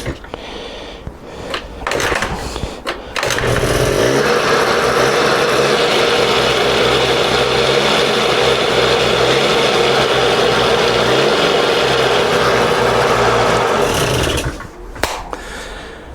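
A small Honda scooter engine idles steadily, then holds a loud, continuous buzzing run with rattly mechanical clatter and the hum of revving, preceded and followed by clunks and handling noises.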